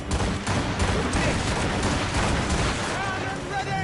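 Ship cannons booming in a naval battle in the video game Assassin's Creed Rogue, dense loud blasts and rumble filling the whole stretch, with shouted voices mixed in.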